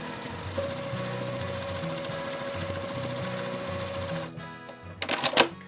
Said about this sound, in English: I'm just going to start on the very edge and sew right down to the bottom edge.